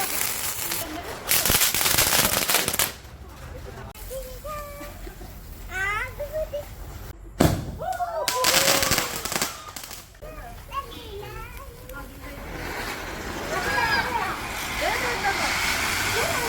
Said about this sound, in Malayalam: ഇന്ന് വിഷുവിൻ്റെ തലേദിവസമായതുകൊണ്ട് കുറച്ച് പടക്കങ്ങളും കമ്പിത്തിരികളൊക്കെ കത്തിച്ചു